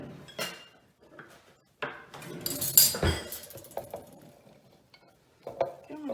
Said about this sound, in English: I'm going to stir all this up here